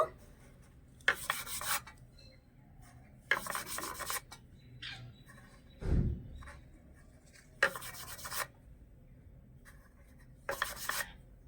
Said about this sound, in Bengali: এবারে হাতে এভাবে করে ঘষে চুষি পিঠেগুলো তৈরি করে নেব